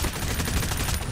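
Gunfire in a tactical shooter video game: a loud, dense burst of shots that packs the whole moment with sharp, overlapping cracks and no voices.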